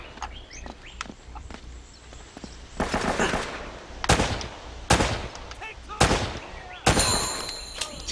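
Gunfire from the video game Uncharted: Drake's Fortune comes as several sharp, loud shots spaced a second or so apart over faint background game ambience.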